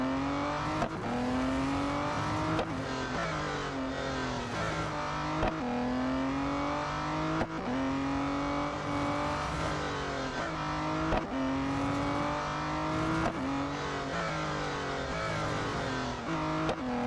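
Race car engine in an autocross event in the mobile racing game Real Racing 3, a steady, loud engine drone with pitch climbing and dropping through repeated gear shifts and revving, continuous for the whole stretch with no talking.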